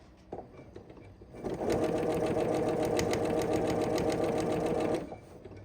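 A sewing machine stitches fabric in one steady, fast, loud run of about three and a half seconds, its even mechanical whir starting and stopping cleanly with no talking over it.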